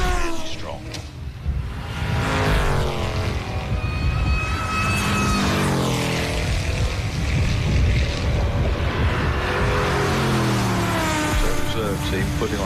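Classic sports racing cars roar past at Castle Combe circuit during a Classic Sports Car Club race, engines droning loudly and steadily with rising and falling pitch as they pass, with heavy wind noise throughout.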